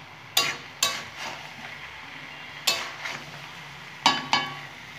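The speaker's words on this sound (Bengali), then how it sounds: "সবজির সাথে চাল ডালগুলো আমি খুব সুন্দর করে নেড়ে নিচ্ছি বন্ধুরা।" A spoon scrapes and knocks in a pot while rice and red lentils are stirred with winter vegetables, making sharp clattering strokes in pairs over a low simmering hiss.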